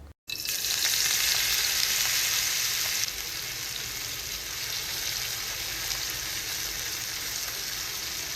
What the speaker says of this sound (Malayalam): മസാല പുരട്ടി വെച്ച മീൻ നമുക്ക് ഫ്രൈ ചെയ്തെടുക്കാം